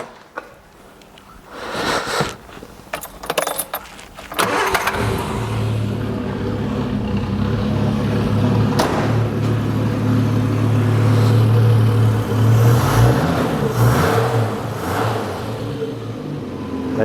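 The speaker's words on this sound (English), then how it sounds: "I'll just lean in and flick the key and see what she's going to do." A 1968 Triumph Vitesse engine cranks with a few sputters, then catches and settles into a steady, loud close-up idle that rises into revs before dropping back, with no talking.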